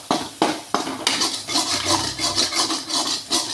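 A spoon scraping banana flower usili off the bottom of a pan: several sharp scrapes and knocks at first, then a run of quicker rubbing strokes against the metal, close and moderately loud, no speech.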